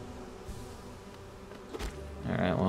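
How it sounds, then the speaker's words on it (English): A big bee in the Hive of the Hollow Knight video game gives off a steady, moderately loud buzzing drone, swelling louder near the end alongside other game sounds. "Yep, that's a big bee."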